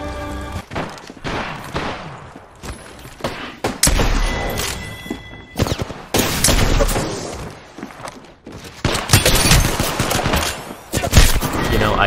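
Gunfire from the Apex Legends video game, made up of rapid bursts of automatic shots and heavy single cracks, loud and close, in several clusters separated by short pauses.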